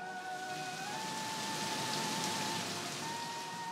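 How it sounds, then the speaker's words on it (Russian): Steady rain shower pouring down, a dense, even hiss of falling drops that stays constant throughout with no voices. "And Little Cloud poured rain on the ground."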